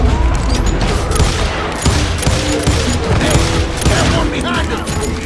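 Dense volley of gunfire from many guns at once during a posse shootout at a surrounded homestead in Call of Juarez: Gunslinger, continuous loud crackle and booms for several seconds with shouted voices mixed in.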